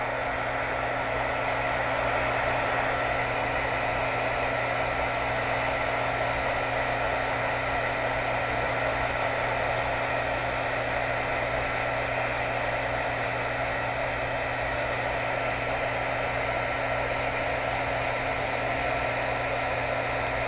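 A heat tool blows hot air over embossing powder fused to pen glue, a steady close whooshing roar that holds unchanged for about twenty seconds with no talking.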